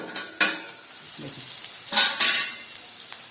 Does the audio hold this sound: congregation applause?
no